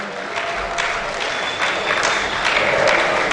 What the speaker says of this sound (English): I believe we can do better with that round of applause